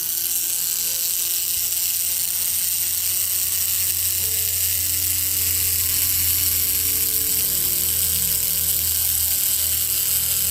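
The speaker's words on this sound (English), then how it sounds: "we got the motor running" Small electric motor of a Tomy Plarail James toy train running on the bench, a constant high buzzing whir with a faint low hum beneath, steady and close for the whole stretch with no talking.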